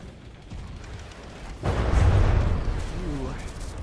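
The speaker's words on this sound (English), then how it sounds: "Ooh, good missile hits." Missiles strike robots in a combat video game, a loud burst of explosive impacts arriving midway and rumbling on after a quieter stretch of game noise.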